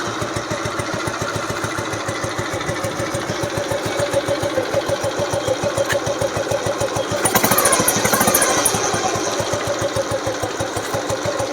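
A 1996 Royal Enfield Bullet Deluxe motorcycle idles with a steady, loud single-cylinder thump, its rapid even pulses continuing for the whole stretch. The engine revs up briefly partway through, then settles back to idle, and no one speaks over it.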